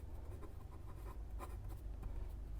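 Pen writing on paper while working an accounting partnership problem, a close, quiet scratching with short strokes and taps in an uneven rhythm, no talking.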